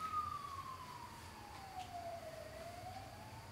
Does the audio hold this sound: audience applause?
no